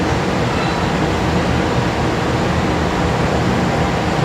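A CRRC-built KRL commuter train fills Bekasi station with a steady, loud broadband rumble and hiss that holds constant throughout, with no voices.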